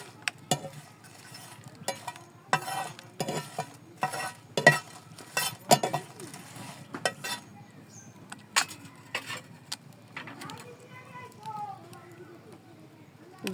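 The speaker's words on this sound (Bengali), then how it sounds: "14-15টা মরিচ দিয়ে দিলাম ভাজার জন্য।" Fourteen or fifteen chillies frying in a pan, heard as scattered clinks and scraping stirs over a faint sizzle, with voices in the background.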